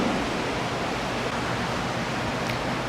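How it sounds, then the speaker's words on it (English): Ocean waves at a beach, a broad, continuous roaring wash of surf with no clear breaks, steady and fairly loud throughout. "Can you hear the waves?"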